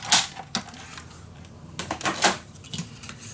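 Scissors cut along designed patterned paper for a magic box, giving soft, quiet snips and crisp rustling clicks in irregular bursts close by.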